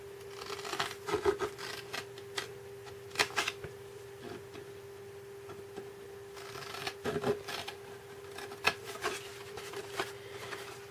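Blade snipping into card for a desk tidy craft, a few short crisp cutting bursts with quiet pauses between, close and faint.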